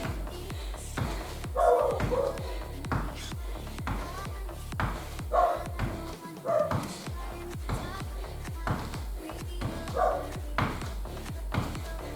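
A dog barks intermittently in the background of a home workout, faint barks over a steady low rhythmic thump, with a person talking at times.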